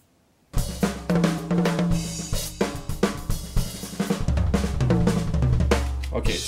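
An unmixed drum recording plays back in Ableton, starting after a moment of silence: a steady kit groove of kick, snare and cymbals over a droning low tone, loud and dense.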